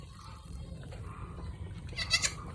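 A goat that has just given birth bleats twice near the end, close and fairly loud, after quiet farmyard background.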